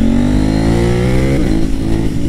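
KTM Duke 890 R motorcycle pulling hard under acceleration, engine note climbing steadily, then a quick clean upshift from its up-and-down quickshifter before revving on again, loud and close with no talk.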